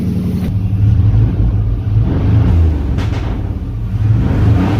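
A 1990 Chevy Cheyenne's 4.3 engine runs through a MagnaFlow exhaust, giving a loud, steady low rumble. It idles throughout with slight swells in revs and no voices.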